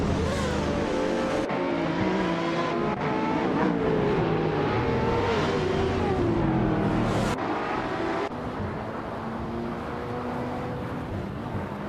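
Race cars, including a 2021 Maserati MC20, lap the Okutama track with a continuous, loud engine roar that rises and falls in pitch as they accelerate and shift, with no voices over it.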